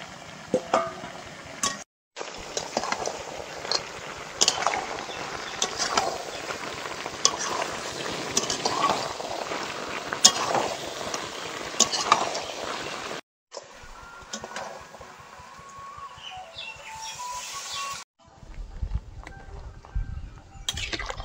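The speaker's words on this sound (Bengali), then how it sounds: "এবার ভেজে রাখা আলুগুলো দিয়ে তেল ছাড়া অবধি, মাংসটা তেল ছাড়া অবধি আর একটু কষিয়ে নেব।" Turkey curry with fried potatoes being stir-fried in oil, close continuous sizzling with repeated spatula scrapes, broken by two short pauses and a quieter stretch toward the end.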